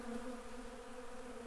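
A faint, steady buzz of a large honey bee colony humming together at an observation hive, a soft droning tone without pauses.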